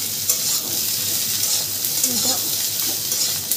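Vegetables fry in a pan with a steady loud sizzle while a utensil stirs and scrapes through them close by; a voice speaks briefly over the cooking.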